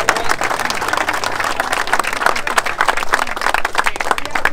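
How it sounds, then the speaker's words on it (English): An outdoor crowd at a law enforcement run applauds Special Olympians, a loud, dense burst of clapping sustained throughout with many hands close by. "Let's give them a round of applause."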